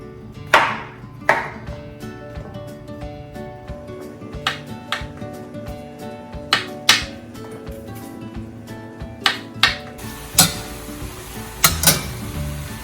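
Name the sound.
knife cutting up mushrooms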